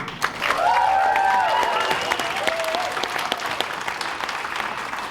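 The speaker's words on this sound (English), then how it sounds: "Please get one final round of applause" Sustained applause from a crowd at a wedding reception after the speeches, steady clapping filling the room for several seconds, with a few faint voices mixed in.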